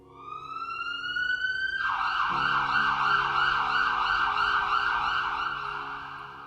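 A loud ambulance siren rises into a steady wail, then shifts to a rapid warbling yelp that holds strong for several seconds, with no voices over it.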